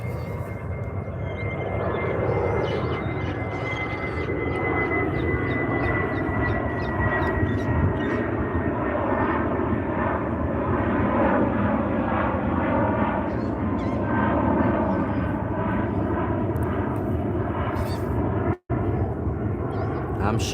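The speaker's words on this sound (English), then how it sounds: "Let the plane pass." An airplane passes overhead with a steady, loud engine drone and a slowly shifting whine that holds for the whole stretch.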